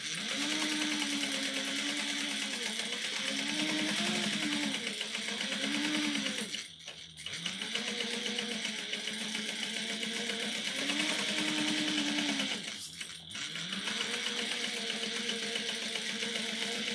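A sewing machine bastes two fabric pieces of a crossbody bag together, running in long steady whirring bursts with a wavering motor pitch, stopping briefly twice before starting again, close and continuous with no talk.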